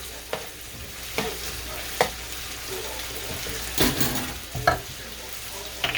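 Linguine with garlic and olive oil is stirred in a pan: a low continuous sizzle is punctuated by several sharp scrapes and knocks of the utensil against the pan.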